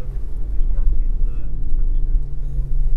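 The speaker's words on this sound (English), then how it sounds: "Water splashing up each side, completely surrounded, I mean, almost coming up to the bonnet." A Land Rover Defender 90 (2021) driving through deep water off-road gives a steady, loud low engine drone and rumble throughout, with someone talking over it.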